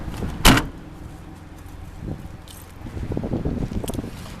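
A trunk latch actuator on a 1992 Oldsmobile Eighty Eight, junked with its trunk full of garbage, fires once with a sharp, close clunk near the start, followed by a low, quiet outdoor background with faint handling noises.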